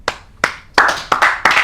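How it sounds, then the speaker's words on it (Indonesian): A person clapping for themselves, five sharp, close hand claps in a loose rhythm, alone. "Lu tepuk tangan buat diri lo sendiri."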